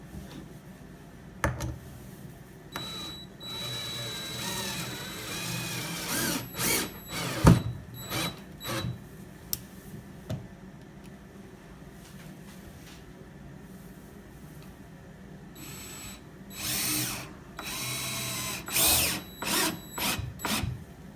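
A power drill drives screws into a wooden picnic table, with short whirring bursts and pauses between them. There is clatter and handling noise around the bursts, and a denser run of driving comes near the end.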